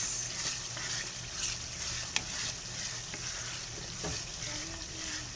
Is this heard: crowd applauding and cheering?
no